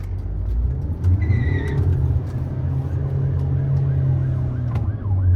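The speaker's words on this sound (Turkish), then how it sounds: "Ambulans yol vereyim" An ambulance siren wails with a rising and falling tone, fairly faint, over the loud steady drone of a nearby Volkswagen Touran 2.0 TDI diesel engine heard from inside the car.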